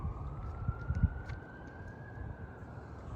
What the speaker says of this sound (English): you can hear the siren right now